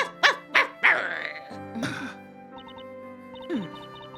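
A small dog in Professor Layton vs Phoenix Wright gives three sharp yips in quick succession, then drawn-out whimpers and whines, close and clear over soft background music.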